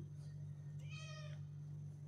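A cat gives a single clear meow partway through, fairly close, over a steady low background hum with no talking.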